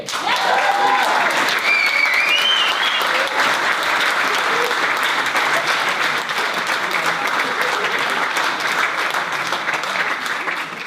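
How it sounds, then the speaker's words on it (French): Loud, sustained applause from a large audience fills the whole stretch, with a few whistles and cheers rising near the start. "un tonnerre d'applaudissements à vous, public"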